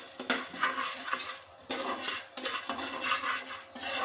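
Corn kernels are stirred in a pot for popcorn, producing repeated scraping and clattering strokes of a utensil against the metal in an uneven rhythm, close and fairly loud, with faint sizzling beneath.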